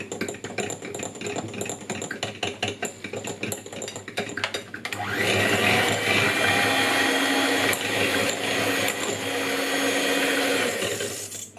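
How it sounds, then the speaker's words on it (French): Cake batter of flour and baking powder is mixed gently by hand in a bowl, giving a steady rhythmic scraping and tapping that grows louder and denser partway through, heard close with no talking. "Je vais venir mélanger tout doucement pour pas en avoir partout."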